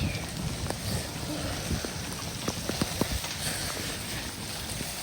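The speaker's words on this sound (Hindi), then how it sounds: "आंखों में पानी जा रहा है बारिश का" Steady rain patters on surfaces close by, with scattered individual drops tapping sharply over a continuous soft hiss.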